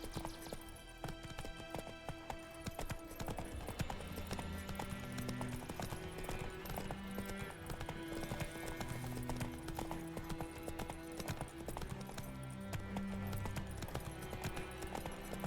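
Geralt's horse Roach from The Witcher 3 trotting, with a steady rhythmic clip-clop of hooves close by over a low musical score, continuing without pause.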